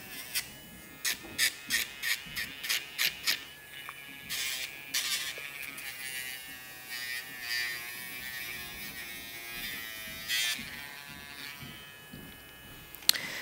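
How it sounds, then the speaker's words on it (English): An electric nail grinder buzzes against a Bouvier des Flandres dog's nail during show grooming, a close series of short whirring bursts followed by steadier intermittent grinding. "this one I did with the nail grinder, so you see it's really clean"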